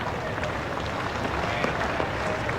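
A Test cricket crowd at Adelaide gives sustained applause, a thick wash of many hands and crowd noise that stays even and fairly loud throughout.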